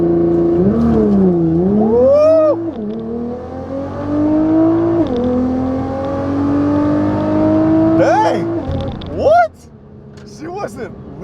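Nissan GTR launching hard with a loud rising engine howl through several gear changes, each pull climbing then dropping in pitch, ending with a brief higher whine as it fades; a voice speaks over it.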